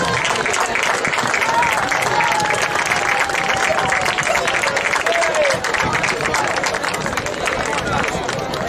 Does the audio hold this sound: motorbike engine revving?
no